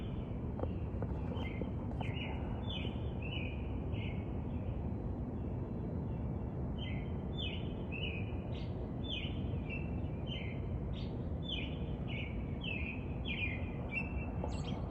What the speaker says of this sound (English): It's kind of crazy to hear the birds down here.